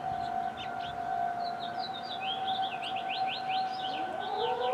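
A steady, droning tornado siren wails faintly in the distance during a Michigan statewide siren test, while birds chirp and twitter nearby over soft outdoor ambience.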